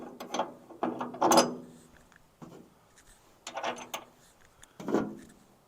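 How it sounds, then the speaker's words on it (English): A giant wing nut being turned down to secure a Hi-Lift jack produces a series of close metallic ratcheting and grinding clicks in short bursts separated by pauses, with no talking. "I have this giant wing nut. I can secure this."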